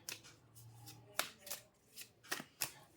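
Tarot cards being shuffled during a reading, a series of crisp papery riffles and flicks in quick bursts, close and clear, with no talking.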